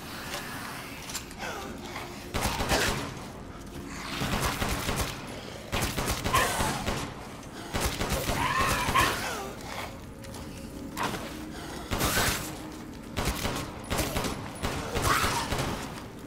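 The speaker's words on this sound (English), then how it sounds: "grenade launcher time." Grenade launcher fire in the video game Resident Evil Village, a series of loud booming bursts repeating every second or two over a busy, rumbling game soundscape.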